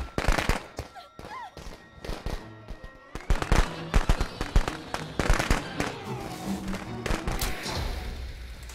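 Rapid gunfire from weapons such as flare guns and a shotgun in the Friday the 13th video game, with a dense run of sharp, loud bangs and crackling bursts, some spaced and some clustered, continuing steadily throughout.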